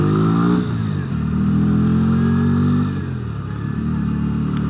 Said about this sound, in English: the exhaust sounds a lot better whilst you're riding than it does standing still